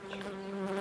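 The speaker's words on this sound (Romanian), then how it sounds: "De afară, un pumn de albine." Honeybees buzz at a beehive during a spring swarm check, a dense, steady drone close by with no talking.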